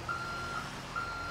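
A backing truck in GTA 5 gives three evenly spaced, high electronic reversing beeps over a low engine hum.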